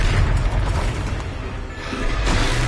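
A dense, roaring magical blast from the Confringo spell in the video game Hogwarts Legacy, loud and continuous, with rumbling low end and a brief dip before it swells again, no voices.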